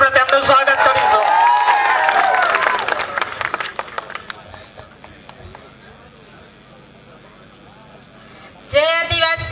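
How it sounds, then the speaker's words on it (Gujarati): Applause from an audience at a political rally, welcoming a speaker: a steady, moderately loud crowd clapping that follows a stretch of voices and fades before another voice begins. "જોરદાર તાળીઓ સાથે આપણે તેમનું સ્વાગત કરીશું."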